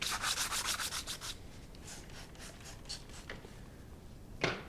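The blade of an old Stanley No. 36 hand plane is rubbed back and forth on wet sandpaper in a run of quick, rhythmic gritty strokes up close. It slows to softer scraping and ends with one last stroke.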